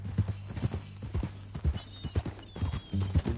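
Horse hooves clip-clop in a steady, close rhythm in Red Dead Redemption 2 on a western ranch trail, with a brief whinny and faint background sounds.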